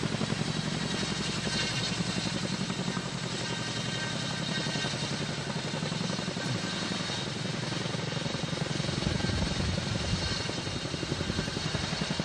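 Helicopter lifting off while carrying the Dream Chaser space plane slung beneath it on a captive-carry flight, a loud, steady rotor and engine roar that holds close and constant throughout.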